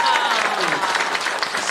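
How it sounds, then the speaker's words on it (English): A convention audience gives a round of applause at a Ninja Turtles anniversary panel, dense steady clapping filling the room with a faint voice threaded through it. "big round of applause."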